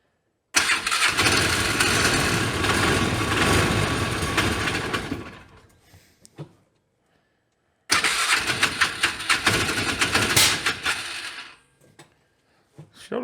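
A Polaris 500 Ranger side-by-side engine cranks and runs roughly for several seconds, cuts out, then fires again for another rough, uneven stretch before dying away. It is loud and close, with no talk.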